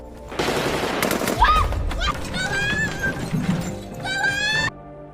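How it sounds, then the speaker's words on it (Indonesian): Bursts of rapid gunfire crackle in a film scene amid a busy, chaotic mix of other sounds, with a horse-like whinny and scattered noises, fairly loud throughout. "Dan tak lama kemudian terdengar suara tembakan."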